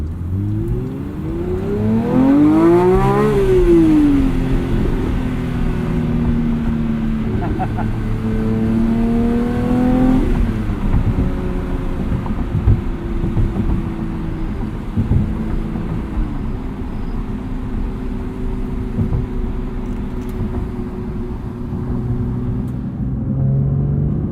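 A 2022 Porsche 911 GT3 with a manual gearbox revs hard, its pitch sweeping up and down through gear changes, then settling into a steady rumbling drone while driving.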